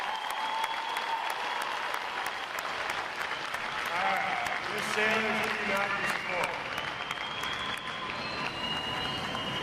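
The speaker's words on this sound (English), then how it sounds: "how about another round of applause for our unit and individual award performance?" Steady crowd applause fills a U.S. Navy boot camp graduation ceremony, dense clapping throughout with an amplified announcer speaking over it.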